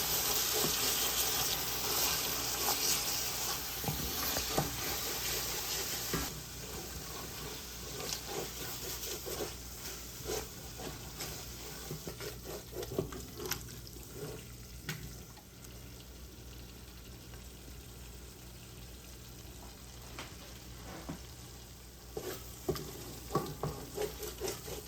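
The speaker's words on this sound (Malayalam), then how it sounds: "ഇത് നന്നായിട്ടൊന്ന് വഴറ്റണം." Chicken curry masala sizzles in a pan on low heat while being stirred, with soft frying crackle, repeated spoon scrapes and clatters, and a stretch of running tap water at the start; no one speaks.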